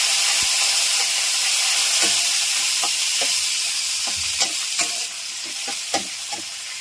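Curry leaves with mustard seeds, cumin and fenugreek frying in hot oil for onion sambar, a loud continuous sizzle with repeated clicking spatula strokes and small pops, close up.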